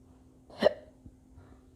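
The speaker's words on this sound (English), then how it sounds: "got the hiccups, y'all, bear with me." A single sharp hiccup from a woman, brief and close, followed by a faint catch of breath in an otherwise quiet room.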